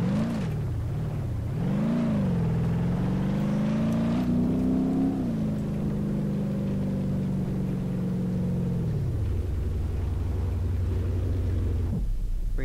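A modded car engine in BeamNG.drive revs up and down with a steady harmonic drone, then settles into a lower idle before cutting off near the end.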